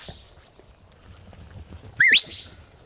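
A shepherd's sharp rising whistle command to a working Irish sheepdog in Kildare, a single loud swooping blast after a quiet stretch of faint outdoor background.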